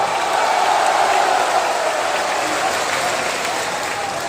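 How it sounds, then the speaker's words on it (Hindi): A large crowd applauds loudly and steadily at an outdoor political rally in India, a continuous wash of clapping and cheering noise. "जोर से ताली बजाओ जरा"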